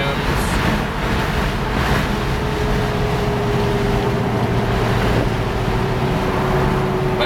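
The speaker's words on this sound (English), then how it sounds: "You can see 65, we're cruising" A 1962 Chevrolet Nova II with a 383 engine cruising at 2800 RPM with the windows open, a steady engine drone under loud rushing road and wind noise.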